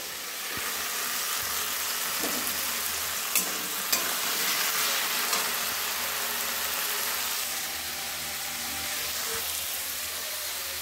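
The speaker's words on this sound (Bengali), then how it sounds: "মাছের মাথা দিয়ে লাউ ভাজা হচ্ছে, আর শাক ভাজা" Bottle gourd fries with fish head in a hot pan, a steady loud sizzle running throughout with occasional stirring clinks and scrapes, no talking.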